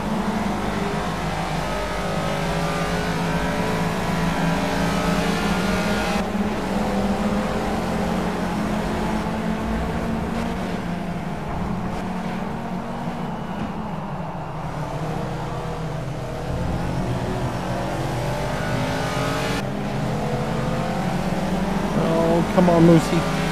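Caterham race car engine in the Project Cars racing game, a steady droning roar with gear changes and revving running throughout, with someone talking over it.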